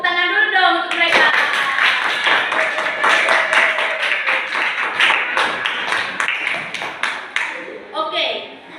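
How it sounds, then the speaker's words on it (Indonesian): An audience claps for presenters at a classroom discussion on tackling waste, a burst of close, distinct handclaps after an opening voice, with speech returning near the end. "Tepuk tangan dulu dong untuk mereka."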